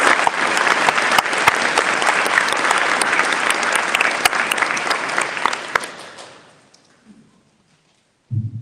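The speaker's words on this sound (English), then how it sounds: "please join me in giving them a round of applause." An audience at a National Honor Society induction ceremony applauds the inductees with loud, sustained clapping for about six seconds before it thins out and fades to near silence, followed by a brief low sound at the very end.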